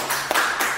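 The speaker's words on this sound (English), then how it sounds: "Clap it up." Hands clapping at a gathering, a few sharp claps heard briefly and up close with no talking.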